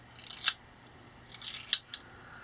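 A worn carbide tip has dropped loose inside a trekking pole tube and rattles as the pole is shaken, giving two short bursts of faint, dry metallic clicks and clatter close up.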